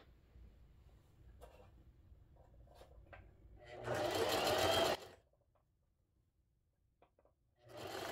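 A sewing machine stitches fabric for a tabletop scarecrow candy holder: quiet handling sounds first, then one loud, steady burst of about a second, and another run starting at the very end.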